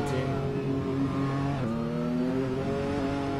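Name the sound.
race car engine revving in a sim racing game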